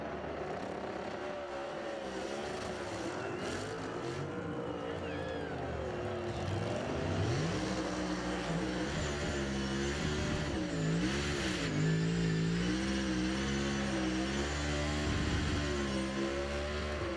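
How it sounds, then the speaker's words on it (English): A NASCAR Cup race car engine revs hard and wavers up and down in pitch, roaring loudly and continuously during a tire burnout. "Flag's not going to survive this burnout."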